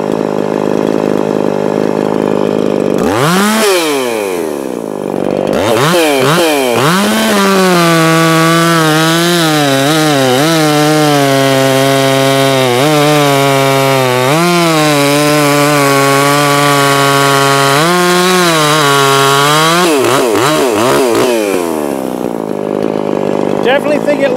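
A Makita 5600 Blue Top chainsaw starts with a short pull, then runs loud and close through its first run, revving up and down while cutting into wood, with brief idle dips between bursts.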